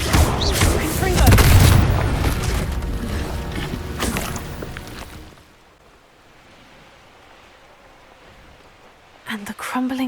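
Heavy booming blasts of the Confringo fire spell exploding in the video game Hogwarts Legacy, loud and dense for several seconds, then a sudden drop to quiet ambience before a few short sharp hits near the end; a voice may shout briefly.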